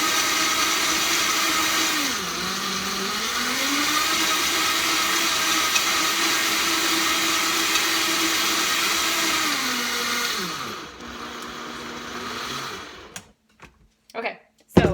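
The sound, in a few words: blender blending a Shakeology smoothie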